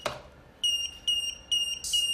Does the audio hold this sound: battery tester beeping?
yes